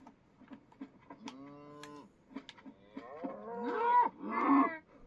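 Minecraft cows moo several times in succession, long drawn-out lowing calls overlapping toward the end, fairly close and clear against a quiet background.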